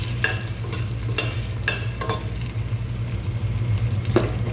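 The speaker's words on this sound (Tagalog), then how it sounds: "Ibigisa ako ng sibuyas." Onions sautéing in a pan, with a loud continuous sizzle and a low steady hum underneath, plus a handful of sharp utensil scrapes and taps spread through, and no voices.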